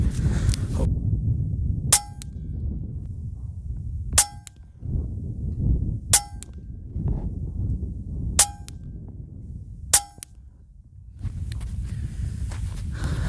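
Five sharp air rifle shots from a Hatsan Nova .177, fired at a target 30 yards away. Each crack is brief and bright and stands well apart from the others, spaced about two seconds apart over low background rumble.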